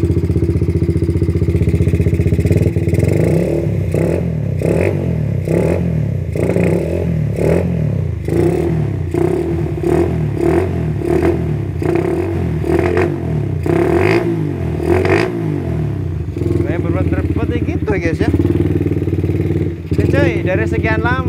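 A Suzuki Dragon motorcycle engine runs close by, a loud continuous rumble with small revving swells and mechanical clatter throughout, with someone talking over it.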